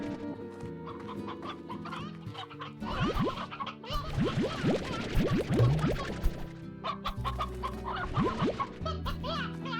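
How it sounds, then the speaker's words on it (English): Chickens and a rooster in the Slime Rancher video game cluck over a layered music bed, with repeated short clucks and squawks clustering near and loud through the middle and tapering toward the end. "I'm almost out of chickens again."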